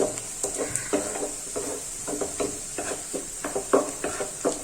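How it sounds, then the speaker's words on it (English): Chopped onion sautés in oil in a pan while a utensil stirs it, giving a steady soft sizzle with repeated light scraping strokes up close and no voices. "the reason why we need to keep sauteing the onion is so that it gets fried uniformly"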